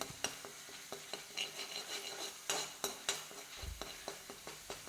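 Spices and onion being fried and stirred in a pan, soft sizzling under repeated sharp clinks and scrapes of a spoon on the pan, close and quiet with no talking.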